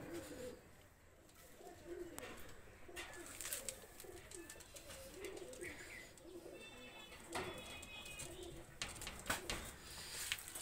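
Two high-quality pigeons are let loose and coo among other birds, with chirps, a flutter of wings and scattered clatter, moderately faint and without speech.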